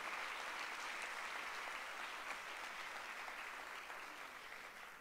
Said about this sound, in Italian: fare un secondo applauso a Carlo Verdone